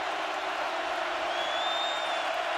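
A noisy football stadium crowd in Austin roars continuously during a Texas versus West Virginia game, a dense, steady wash of cheering with a faint whistle-like tone rising midway.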